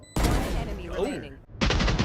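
Video game gunfire bursts out in loud, rapid volleys, first a dense crackling fusillade, then a short lull with voices underneath, then another sharp flurry of shots at close range.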